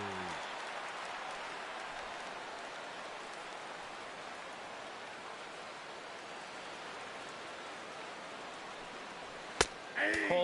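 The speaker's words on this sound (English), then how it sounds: "Well, the rain is coming down hard here." Heavy rain pours steadily in the baseball video game MLB The Show 17, a dense constant hiss throughout, with a brief sharp click near the end.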